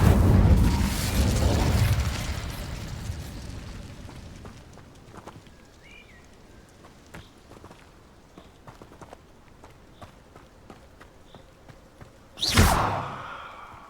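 A fire spell bursts to life in a wizarding action game: an opening whoosh of flame, then quieter clicks and thumps, and finally a second sharp, loud fiery burst near the end.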